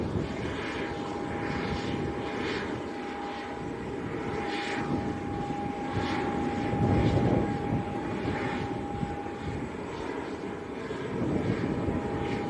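Jet aircraft engine noise at Leeds Bradford Airport, a steady broadband roar with a sustained tonal whine running throughout, swelling slightly midway and again near the end, with no voices.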